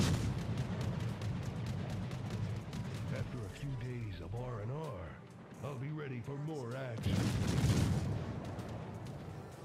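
The guns of the Russian cruiser Shchors fire in World of Warships, heavy booming rumbles under someone speaking, swelling again at the end.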